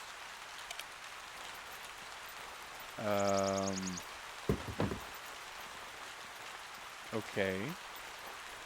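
Steady rain hiss in the video game Yonder, a soft continuous wash throughout, with a brief spoken word and a couple of short tonal game sounds over it.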